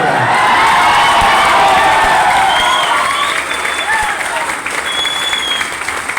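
A large audience at a speech event claps loudly and continuously, the dense applause mixed with crowd noise and a few shouts, fading slightly toward the end.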